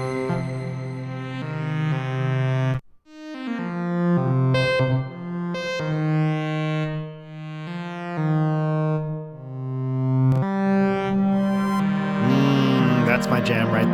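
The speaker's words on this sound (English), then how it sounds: "Got that nice chorusing sound now." Modular synth reverb fully wet, its pre-delay gently modulated by an LFO on a XAOC Devices Timiszoara effects module, giving a thick, chorused, cavernous wash over sustained tonal notes and short melodic phrases, loud and continuous without speech.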